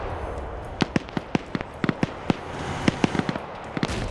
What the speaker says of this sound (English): now taking RPG fire